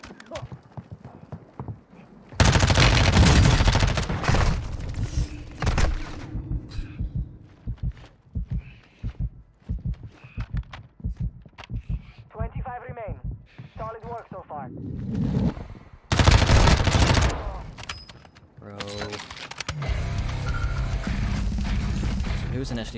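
Gunfire in Call of Duty Warzone, loud sharp bursts of shots in several clusters, with players' voices talking between and under the firing.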